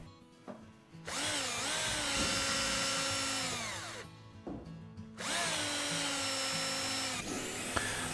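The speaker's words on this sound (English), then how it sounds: "use the holes that are cut in the frames to drill those and transfer them through the gussets onto the other side" Power drill boring holes through frame gussets during a wooden frame assembly, two long sustained bursts of steady whirring with a short pause between, close and loud, no talk.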